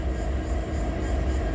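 An EMD 16-710-G3 diesel engine in an SD70LC low-clearance locomotive, heard as a steady, continuous low rumble with a broad mechanical drone and no voices.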